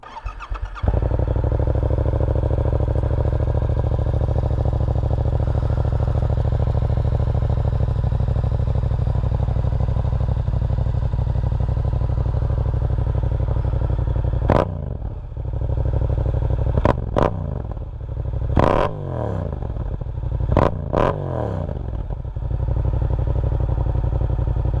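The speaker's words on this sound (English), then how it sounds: "Let me give you a sound clip of it at idle," A Yamaha XSR700 motorcycle with an aftermarket exhaust idles steadily and loudly for about fourteen seconds, then gets several quick, sharp throttle blips before settling back to idle.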